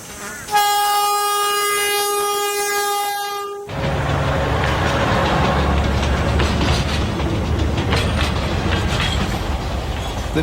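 A train on a Gulf country gold rush era railway line in outback Queensland sounds a long, loud horn blast, then rumbles and clatters steadily along the track, close and continuous.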